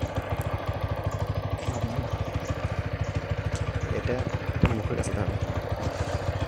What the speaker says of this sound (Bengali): তো স্টার্ট করলাম আমি বাইকটা